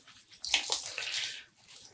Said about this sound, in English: Squeeze out some excess water and put it in the rinsing pan.